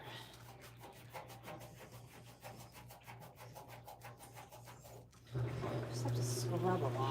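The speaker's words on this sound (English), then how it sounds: "Just have to scrub a lot. Lots and lots of scrubbing required." Scrubbing while cleaning a kitchen makes a fast, rhythmic rasping rub, with stroke after stroke at close range before a louder, fuller wash of sound takes over near the end.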